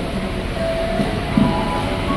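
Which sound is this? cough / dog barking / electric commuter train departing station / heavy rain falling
electric commuter train departing station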